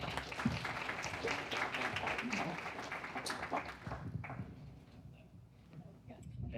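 Audience applause closing a youth gun violence prevention advocacy panel, dense clapping for about four seconds that then thins out and fades, with speech mixed in.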